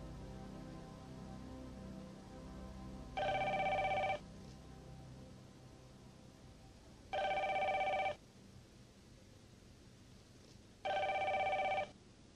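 A telephone rings in three separate bursts of about a second each, spaced by quiet pauses over a low background hum, with no talking.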